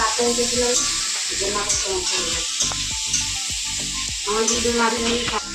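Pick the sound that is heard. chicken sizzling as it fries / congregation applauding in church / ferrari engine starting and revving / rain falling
chicken sizzling as it fries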